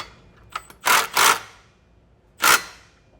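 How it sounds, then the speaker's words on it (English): A 17mm socket tightens the bottom bolts of a TowSmart trailer hitch on a 2024 Hyundai Palisade, heard up close as three short, rasping bursts with brief pauses between them. "First I'm going to take my 17mm socket and tighten the bottom bolts."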